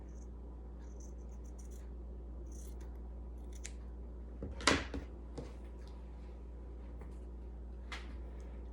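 Scissors cut material for a handmade Christmas gnome, giving a few quiet snips and scratchy slices, one louder cut near the middle, against a faint low hum in an otherwise quiet room.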